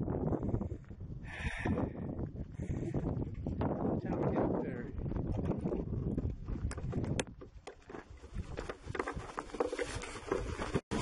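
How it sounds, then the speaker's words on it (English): Gusty wind on the summit at Marmot Pass buffets the microphone in a steady roar with rumbling low-end bursts, loud and close throughout, with occasional rustling and a sharp crackle near the end. "Windy up here on the summit."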